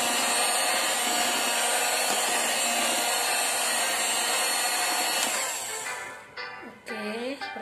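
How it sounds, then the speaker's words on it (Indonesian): An electric mixer whirs at low speed through cake batter, a steady close hum that fades out near the end, followed by a few short scraping sounds. "Kemudian ini kita mixer sebentar aja ya teman-teman,"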